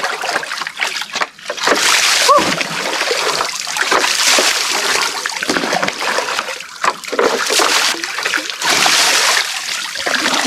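Cold fresh water splashes and sloshes close by as someone bathes outdoors, with repeated loud pours and splatters in an uneven rhythm.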